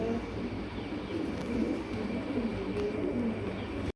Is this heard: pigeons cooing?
yes